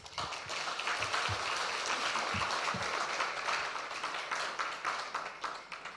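An audience claps at the launch of the new Ghana Premier League season, a continuous, fairly faint wash of applause from many hands that stays even for several seconds.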